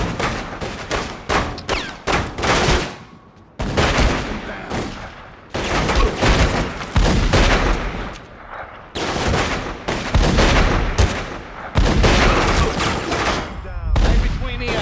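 Sniper gunfire in a video game firefight: loud, close shots and blasts crackle in dense, rapid clusters with short pauses between volleys, continuing without letup throughout.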